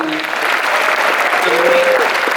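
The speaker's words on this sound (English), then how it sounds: "let's give a round of applause to Wizard World" A comic con panel audience breaks into loud, sustained applause, dense clapping with a few whoops and shouts rising over it.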